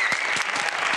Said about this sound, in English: give a nice round of applause to all of our performers today